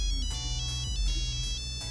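A mobile phone rings with a short electronic ringtone, bright repeated beeping tones in a quick pulsing pattern over a low hum, heard close with no one talking.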